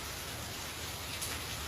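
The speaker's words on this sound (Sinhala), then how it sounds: "මේ දැනුත් වහිනවා මේ වීඩියෝ එක දානකොට." Rain falls in a soft, steady hiss. It is faint and even throughout, with no voices.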